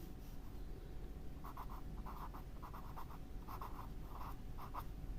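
Pen or marker writing out a flowchart for checking even or odd numbers, a series of short scratchy strokes in bursts, fairly faint against a steady low background hum.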